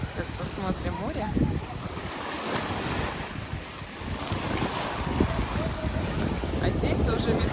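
Sea waves wash in against the shore under gusty wind buffeting the microphone, a continuous rough roar with surges of surf.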